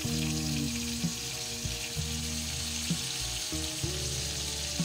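Onion, garlic and ginger sautéing in a pan for a milkfish steak, a steady close sizzle running throughout, with a steady tonal hum underneath and a few soft clinks from stirring.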